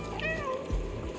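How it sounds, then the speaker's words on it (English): A cat meows once in the video game Stray, a clear, fairly close mew rising and falling over about a second, with a soft low ambient hum beneath. "there's a dedicated meow button that I rarely stopped pressing"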